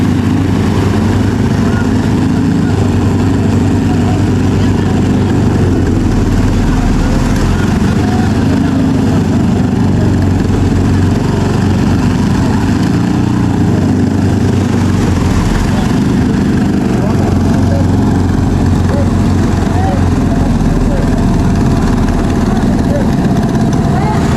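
Racing boat engines running, two started, with a steady loud motor drone and rumble throughout, continuous with no pauses.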